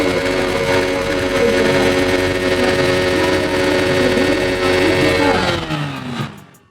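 Yamaha MX King 155 TCS motorcycle exhaust idling, a steady, loud, close engine rumble that holds evenly for several seconds before tapering off, with no talk.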